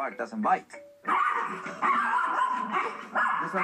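Dogs bark and yip close by in quick, excited bursts with whiny, high-pitched tones, almost continuous after a short pause.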